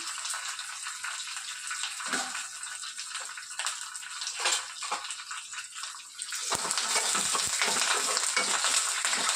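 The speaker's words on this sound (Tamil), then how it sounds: "ரெண்டே 2 சிவப்பு மிளகாய், கொஞ்சம் கருவேப்பிலை போட்டு நல்லா பொரிய விடுறோம்." Red chillies and curry leaves spatter and crackle steadily in hot oil, a dense close sizzle that swells louder and fuller over the last few seconds, with no voices.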